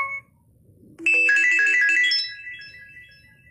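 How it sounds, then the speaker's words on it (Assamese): A mobile phone ringtone for an incoming call plays a bright electronic melody for about a second and a half after a brief tone at the start, with quiet background before and after. "ধৰক ফোন আহিছে"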